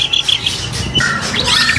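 A trotol competition songbird from captive breeding squawks and chirps in short harsh bursts, loud and close, repeating through the moment with no voices.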